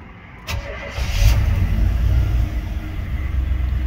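The engine of a 1987 K5 Blazer, not its original engine, cranks and fires, then settles into a steady low rumbling idle, loud and close with no voices.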